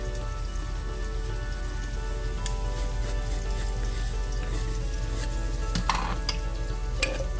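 Food sizzles steadily in two pans on the stove during a beef shank korma preparation, a constant crackling hiss with a few louder spatters and clinks near the end, no talking.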